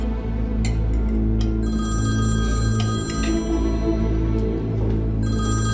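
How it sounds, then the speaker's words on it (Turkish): A telephone rings indoors with a steady electronic trill repeating in bursts, heard over a constant low hum, with no talking. "Cemal Bey, telefonunuz çalıyor."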